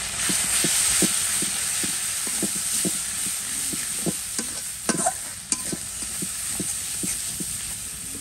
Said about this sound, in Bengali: মশলাটা কিন্তু কষানোর মতো দেখতে পাচ্ছি